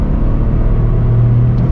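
A 2023 Toyota GR Corolla's engine revs steadily in third gear around 4,500 RPM, a loud, continuous low rumble heard from inside the car with no talk.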